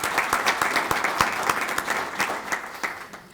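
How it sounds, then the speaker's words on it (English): Audience applause at an investors' day welcome event, a steady round of many hands clapping together, fairly close and sustained, with no voices over it. "I think she deserves another round of applause."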